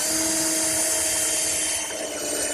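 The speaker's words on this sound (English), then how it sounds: "Hold the draw front and re-drill for a screw." An angle drill re-drilling a screw hole in a wooden drawer front of a CD storage case, a loud, steady whirring motor whine held close and continuous, easing slightly near the end.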